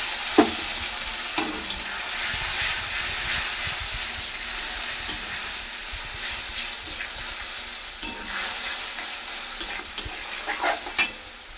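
Onion, tomato and spice masala fries in a pan, a continuous close sizzle broken by several sharp scraping stirs of a spoon against the metal, with no one speaking.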